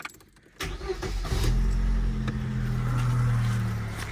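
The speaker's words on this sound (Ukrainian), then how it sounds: "Так, завели автомобіль." A car engine cranks and catches about half a second in, then settles into a steady, loud idle that rumbles on to the end, heard during work on the vehicle's fuel tank.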